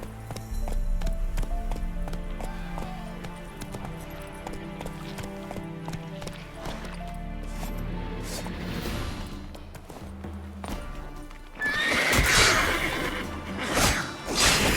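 Roach, Geralt's horse in The Witcher 3, gallops with a steady rapid beat of hooves amid game ambience, ending in a louder burst of rushing, crashing noise.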